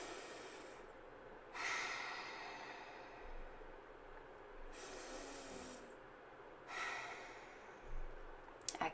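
Slow pranayama breaths pushed out through the nose with a rough, hissing constriction at the back of the throat, several long exhalations spaced a few seconds apart, close and fairly quiet with no talking.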